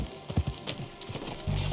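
Horse hooves clip-clop in a quick, uneven rhythm, a handful of close hoofbeats from the video game Red Dead Redemption 2.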